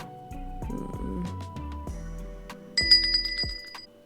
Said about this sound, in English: The bell above the door jingles, a cheerful sound